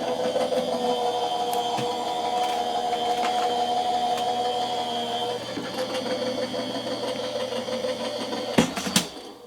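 A small Gemini Mini electric die-cutting machine runs while cutting card stock, giving a steady low mechanical hum that changes pitch midway and ends with a couple of sharp clunks.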